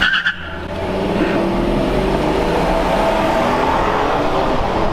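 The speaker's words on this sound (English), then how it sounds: "You hear the tires squealing?" A Rolls-Royce engine roars loudly and steadily during a drag race while tires squeal and skid against the pavement, with no voices.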